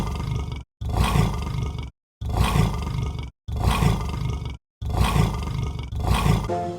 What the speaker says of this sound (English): It's a tiger. What a powerful roar.